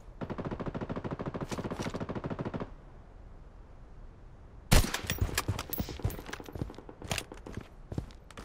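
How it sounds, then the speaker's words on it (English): Automatic gunfire in the mobile shooter BloodStrike: a rapid burst at the start, a short lull, then louder, closer shots and impacts cracking out in quick irregular bursts, with no talk. "He's shooting at me."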